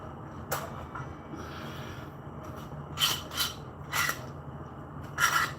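A big clamp is cranked tight on a 2x4 wooden mallet build, making a few close, brief ratcheting scrapes over a low steady background hum, with no speech.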